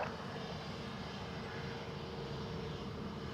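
A fixed-wing airliner landing on runway 28 left at Dublin Airport, its engine roar a steady, broad rumble held at even loudness throughout, with no talk over it.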